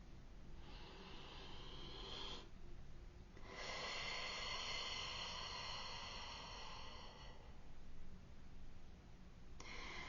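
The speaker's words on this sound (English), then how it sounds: "Take a deep breath with me." Deep, slow breaths drawn in and released close to the mic during a brief calming pause, with a few long airy inhales and exhales separated by short gaps and no talking.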